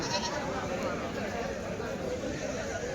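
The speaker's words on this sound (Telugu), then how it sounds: "కట్ట మేకపోతులు అయితే ఉన్నాయండి" Goats bleat amid a busy crowd at a weekly goat market in Kadiri, their calls blending with steady chatter and market noise throughout.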